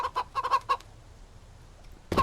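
Clucking from a chicken in the survival video game Mist Survival comes in a quick burst of several short clucks, then a pause and one more loud cluck, fairly close with no talking over it.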